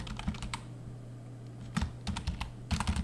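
Typing on a computer keyboard to rename a spreadsheet chart, with a few quick bursts of close, crisp key clicks separated by pauses over a faint low hum.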